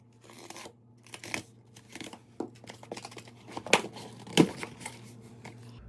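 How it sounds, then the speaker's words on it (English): Cardboard crunches and crinkles as the top of a flimsy coin box holding pennies is cut open, with a series of close, irregular snips, tears and crackles growing louder toward the end. "Let me go ahead and just cut the top of it really quick."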